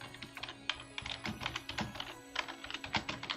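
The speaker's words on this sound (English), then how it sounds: "You all can hear the sounds of my tacky keyboard." Rapid, uneven clatter of typing on a tacky computer keyboard, keys striking close and clear in bursts with brief pauses, no talking.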